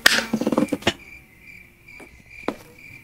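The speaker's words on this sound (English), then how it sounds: "I can just hear the fucking crickets in the background." Steady crickets chirp faintly in the background, with a few sharp taps and knocks up front and another knock later.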